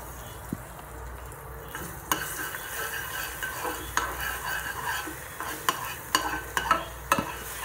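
Minced pork with onion fries in oil in a non-stick pan, with a soft sizzle under irregular scraping and clinking as a spoon stirs it.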